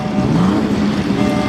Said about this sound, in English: we get to hear the burble of some very, very nice old cars